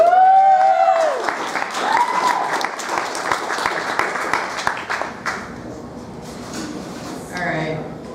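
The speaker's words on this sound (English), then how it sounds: "Can we get another round of applause for our last poet?" Audience applause for the final poet at a poetry reading, clapping and whoops from a crowd with voices over it, fading into quieter scattered claps and chatter.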